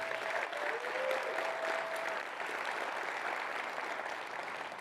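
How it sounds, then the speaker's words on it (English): A large audience claps steadily at an annual partnership meeting of a city tourism bureau, a dense, even wash of applause held for several seconds without speech. "so a big round of applause for Harriet"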